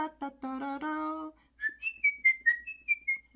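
One person whistles a tune as a lively run of short, clear melodic notes, after a brief low hummed vocal phrase at the start.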